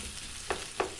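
Ingredients for callaloo sauté in a pan with a soft continuous sizzle, broken by two quick scraping stirs, close and fairly quiet, with no talking.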